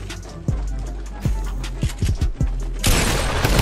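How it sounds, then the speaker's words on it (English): A Tommy Gun fires in the Fortnite Battle Royale video game, a few sharp, punchy shots spaced irregularly, then a denser burst of noisy firing toward the end. "Tommy Gun!"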